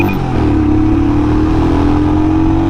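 Royal Enfield Himalayan BS6 motorcycle pulling away on the road, a steady loud mid-pitched engine drone with a slowly rising tone as it gathers speed, close and continuous throughout.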